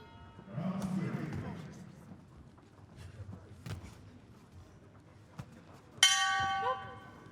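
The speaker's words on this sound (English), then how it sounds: "Bell goes at the end of the round." A boxing ring bell at a 2021 youth world boxing championship bout rings out sharply near the end, sounding the close of the round after muffled crowd noise and thuds.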